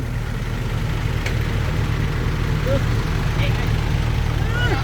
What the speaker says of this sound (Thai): เดี๋ยวเอารถไถมาอีกคันครับ